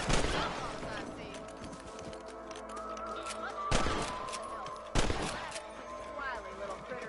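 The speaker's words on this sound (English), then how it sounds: "Nice shooting! That's it, kill those little bunnies." Gunshots ring out while shooting rabbits on a ranch in Red Dead Redemption, a few sharp separate cracks spaced over several seconds against game ambience and music.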